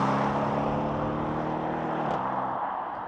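An Audi RS6 C7 estate pulls hard under acceleration, its engine note strong and steady with rising harmonics, then a brief shift near the end before the drone continues, loud and close with no talking.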